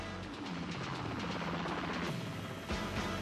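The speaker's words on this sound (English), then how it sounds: "he speeds onward in search of JL, whose chopper hangs still, suspended in the air several feet beneath him." A helicopter flying low and close to the ground through mist, its steady loud rotor and engine drone holding constant throughout, heard alone without voices.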